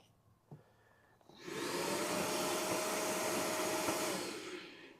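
A Milwaukee M18 FUEL dust extractor with a fleece bag starts after a click and runs with a steady, loud whooshing roar and a constant motor whine, then begins to spin down at the end.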